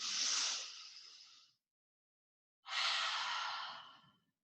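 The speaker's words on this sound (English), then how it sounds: "Deep breath in." Two long, audible breaths in a children's yoga class, an inhale then an exhale, each lasting over a second with a clear pause between, close and breathy with no talking.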